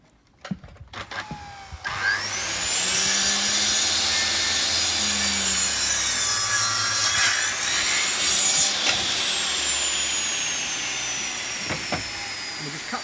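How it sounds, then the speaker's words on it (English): A hand saw rasps through wood for a garden picnic table in a long run of steady back-and-forth strokes, close and fairly loud, with a brief knock and rustle at the start. "Go to the saw."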